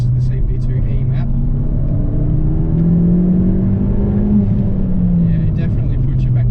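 Car engine pulling hard on the Collins Performance CP2E tune, a steady loud drone whose pitch climbs and sags under acceleration, with a person talking over it near the start and end.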